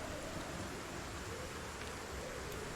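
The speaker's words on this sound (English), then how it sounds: "Because it's storming so bad" Heavy rain pours steadily through a thunderstorm, a dense, even hiss that stays constant and fairly faint from start to finish, with no talking.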